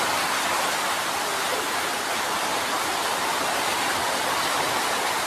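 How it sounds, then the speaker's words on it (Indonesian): Heavy rain pours down steadily, a dense, continuous broadband hiss with no pauses, loud and close throughout. "Mantap hujannya ini, mantap."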